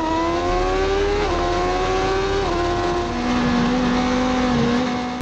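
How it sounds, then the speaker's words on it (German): Race car launching at full throttle on the Oschersleben circuit, a loud, close engine surging through several upshifts, each gear change briefly dipping the tone before it climbs again. "Launch Control rein, Vollgas"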